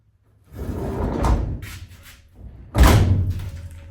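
A Volkswagen Bay van's sliding door rolls along a new guide track with a gritty rumble, then a louder heavy clunk as it moves again, close by.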